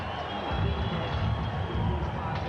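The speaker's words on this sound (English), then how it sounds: "It's not an overwhelming cheer, but it's certainly in Tyson's favor." A boxing arena crowd makes a sustained, moderate cheer with a murmur of voices as a heavyweight fighter enters the ring, a steady roar that sits under the general din without any sharp peaks.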